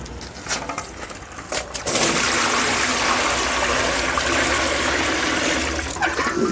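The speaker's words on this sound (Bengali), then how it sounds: "ওই জন্য কুয়ো থেকে একটু জল তুললাম, সরাসরি এটা ঢেলে দেব" Water drawn from a well is poured straight into an air cooler under repair to test it, a few splashy drips and taps first, then a loud steady gushing pour that runs on for several seconds and eases near the end.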